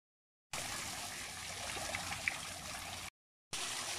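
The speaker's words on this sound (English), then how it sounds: "she likes getting her eyes rinsed" Water running steadily over a tapir's face to rinse its eyes during a bath, a soft continuous trickling spray that cuts off abruptly, pauses briefly, then resumes, with no voices.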